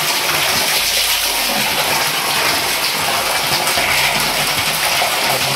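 Water gushes out continuously at a spring at the Ekeswar Mahadev temple, a loud, close, steady splashing rush that lasts the whole stretch with no voices.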